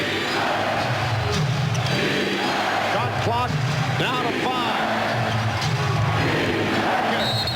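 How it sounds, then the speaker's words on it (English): A roaring home arena crowd at the 1996 NBA Finals game 6 between the Bulls and the Sonics, a sustained loud cheering wash heard under a commentator's voice. "The effect of the home crowd just keeps pushing and pushing for their favorite Bulls here."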